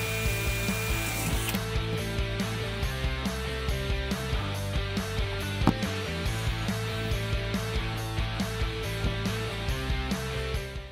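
Rapid ratchet clicks as original plastic-bumper hardware, self-cutting nuts, is reinstalled on a Fox-body Mustang GT front bumper cover, a steady close series of mechanical ticks over a constant hum.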